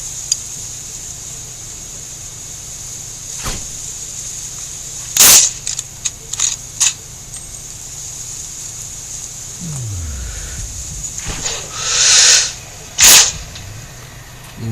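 Sniper rifle shots in Sniper Ghost Warrior 2, a few sharp separate cracks spaced seconds apart over a quiet outdoor ambience, with a low passing rumble near the end.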